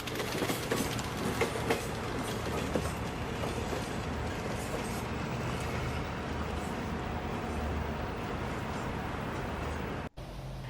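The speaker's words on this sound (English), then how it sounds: "After the train entered the yard, it was doing a little switching, and it had to move around some cars and pull them out" An old train with vintage railroad cars switching in a rail yard, with steady rolling rumble and clickety-clack of wheels on rails, moderately close, alone without voices, ending in a brief cutoff.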